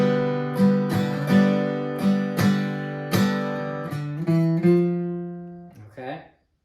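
An electric guitar plays a sequence of picked notes and chords from a song, bright attacks at an uneven rhythm, close and clear, ending with a short fading tail.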